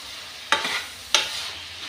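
Boiled potatoes stirred into spices in a frying pan give a low background sizzle broken by two sharp, close scraping strokes about half a second apart.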